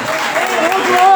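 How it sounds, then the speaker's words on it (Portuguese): A church congregation applauds in a short, dense burst of clapping, with voices mixed in underneath. "Aplaude a Jesus"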